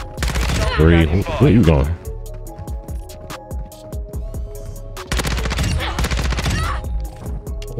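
Bursts of rapid gunfire in Call of Duty Modern Warfare 2, loud clusters of shots separated by gaps, with a player talking over parts of it.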